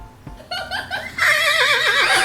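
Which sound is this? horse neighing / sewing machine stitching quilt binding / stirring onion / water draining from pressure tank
horse neighing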